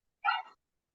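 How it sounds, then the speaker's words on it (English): A single short dog bark, heard once in near silence and sounding somewhat muffled. "Oh, it's a dog"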